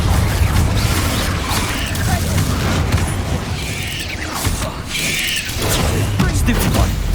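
Explosive spell blast from the Hogwarts Legacy video game goes off with a heavy boom and a dense crashing roar, surrounded by loud game combat noise and a voice.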